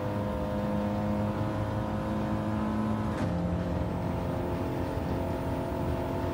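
A race car engine in Gran Turismo 7 during a time trial holds a steady, loud drone with harmonic bands, briefly shifting pitch midway before settling back to a sustained hum.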